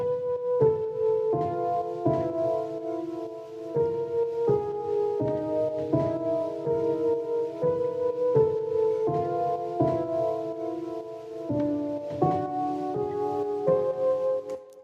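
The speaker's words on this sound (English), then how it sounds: "preset from Ableton called the Childhood Home Piano." Ableton's Childhood Home Piano preset plays a steady sequence of soft, mysterious chords, drenched in reverb and a light delay so each note blurs into the next, with no talking.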